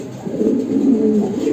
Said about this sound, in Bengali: খুব ভালো একটা জাতের কবুতর আছে, ফেন্সি কবুতর, এটা হলো লোটন।